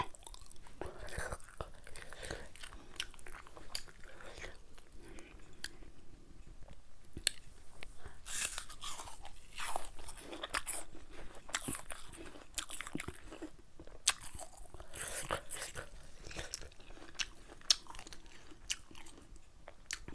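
Crisp apple bites and steady crunchy chewing up close, eaten in place of green mango with sweet fish sauce, repeated wet crunches running throughout with occasional soft murmurs.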